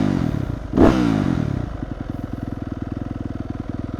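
A Yamaha YZ250F dirt bike engine and free-flowing exhaust idling close by, with a brief rev and clatter early on, then settling into an even, loud, pulsing idle.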